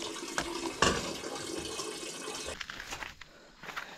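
Water flowing through a pipe carried from higher ground along a hillside line, a steady rushing gush that runs continuously, then thins and sputters in the last second and a half.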